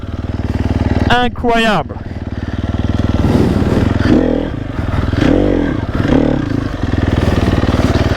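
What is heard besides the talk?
enduro motorcycle engine pulling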